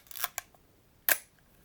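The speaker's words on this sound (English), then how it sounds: "But that is the cloth shutter of the M3." A Leica M3 rangefinder with a cloth focal-plane shutter fires, giving short, crisp mechanical clicks: a quick clattering pair near the start, then a single louder snap close to the microphone, with quiet between.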